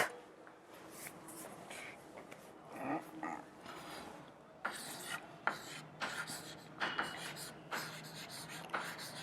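Pen or pencil writing notes on paper during a physics class on rotational motion, with close scratchy strokes coming in irregular bursts and brief pauses, fairly quiet.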